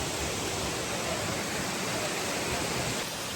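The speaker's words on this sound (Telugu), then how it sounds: "ఫాల్ మొత్తం అలా పడిపోతూ ఉంటుంది అనుకుంటా." Jibhi waterfall in the hills of Tirthan Valley, a steady broadband roar of falling water that stays loud and unchanging throughout, with no voices over it.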